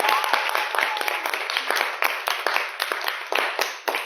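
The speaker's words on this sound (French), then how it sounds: "Applaudissons pour lui." A Christian missionary community gathering claps for a founding member: a room of people applauding in a brisk, uneven patter of distinct claps, fairly close and continuous throughout.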